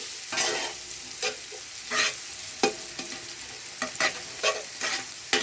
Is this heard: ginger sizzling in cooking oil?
yes